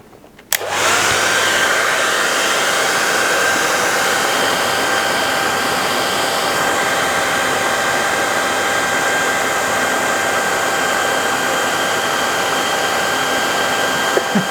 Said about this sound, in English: I'm going to heat it with the hot from a hairdryer